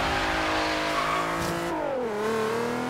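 Naturally aspirated car in the Forza racing game accelerating hard, its engine note droning loud and steady, then dropping in pitch at a gear change before climbing again, with no voices.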